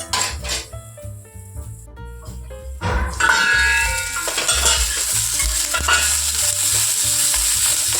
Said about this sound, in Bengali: পেঁয়াজগুলো একটু ভাজা ভাজা হোক